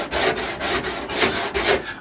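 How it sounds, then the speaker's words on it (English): A hard, solid brush scrapes old carpet glue off a camper van panel in rapid repeated rasping strokes, about eight passes in two seconds, close and fairly loud with no talking. "it actually cleans it off quite well because you can use the old solid brush"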